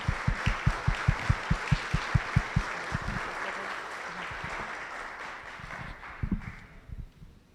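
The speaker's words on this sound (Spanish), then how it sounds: "me gustaría un gran aplauso" An audience at a book presentation on architecture bursts into applause, first in quick rhythmic unison claps, then a looser, sustained clapping that gradually fades out.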